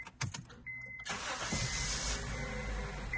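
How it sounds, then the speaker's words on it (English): A high-mileage car (252k miles) engine cranks with a few quick clicks and whirs, then catches and settles into a steady idle, with a brief tone beforehand. "Start the engine."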